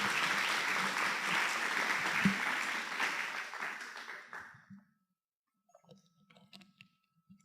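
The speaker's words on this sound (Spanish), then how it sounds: "Denle un aplauso al Señor de gloria." A church congregation bursts into dense, sustained applause that fills the room for about five seconds, then fades out abruptly, leaving near silence with a few faint scattered sounds.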